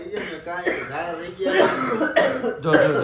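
Several harsh coughs or throat-clearing bursts come in quick succession, close and loud, with voices talking around them.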